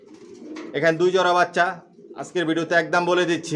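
Racer pigeons in a rooftop loft coo softly in the background while someone talks over them nearby.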